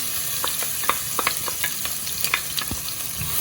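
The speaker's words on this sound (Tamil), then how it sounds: "இந்த வெட்டி வச்ச வெங்காயத்தையும் பச்சை மிளகாயும் போடுவோம்" Chopped onions and green chillies frying in hot oil in a pan, a steady close sizzle broken by repeated crackles and spatters as they are stirred, no voices.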